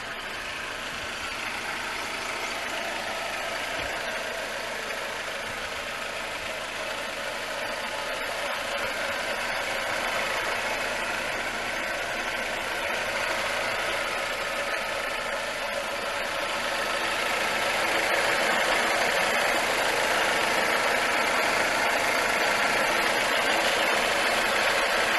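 A 2005 Suzuki Reno (Lacetti) idles steadily, a continuous even engine and exhaust hum at moderate distance that grows slightly louder toward the end, with no talking.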